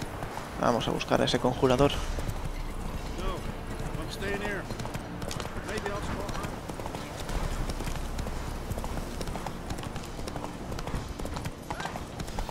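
Horse galloping in The Witcher 3: Wild Hunt, rapid rhythmic hoofbeats running steadily and loudly throughout, with a voice speaking over it.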